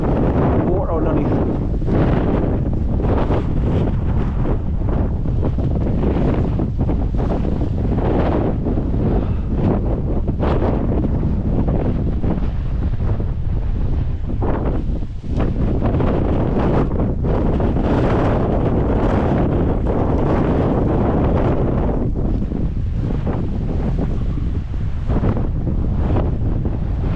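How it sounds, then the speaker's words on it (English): Water rushes down Hells Gill beck, a stream on a wet, squelchy hillside, in a continuous roar heavily buffeted by wind noise on the microphone. "That's the stream running down here, look."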